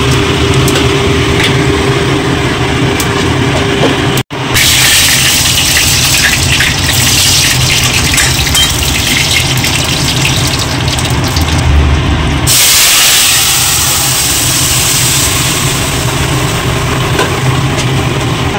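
Bay leaf, dried chilli and cumin crackle in hot oil for a dal tempering, a loud, dense close sizzle that breaks off sharply once, resumes, then brightens into a harsher hiss.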